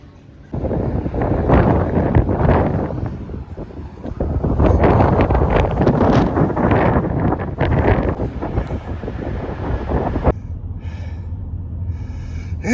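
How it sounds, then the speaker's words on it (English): Strong wind outdoors buffeting the microphone, loud roaring gusts that swell and sustain for several seconds before dropping off abruptly near the end. "It's windy out there."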